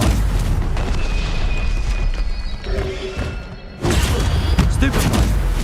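A Stupefy spell hits in the video game Hogwarts Legacy, a booming impact burst against game music and effects, strong at the start and again near the end.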